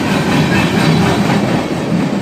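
A short local freight train of four cars behind two GP40-2 diesel locomotives rolls past close by, a loud steady rumble with faint wheel clatter, no voices.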